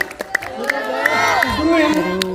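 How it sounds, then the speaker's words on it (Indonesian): At a gala premiere of a WeTV original series, a crowd cheers, whoops and claps in a lively, fairly loud burst, with excited voices calling out throughout. "ayo tepuk tangannya mana nih teman-teman kalian semua"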